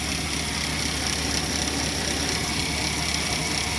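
A steady engine runs continuously in a car that has sat unused for years, with a constant low rumble and broad hiss, no speech, holding an even level throughout.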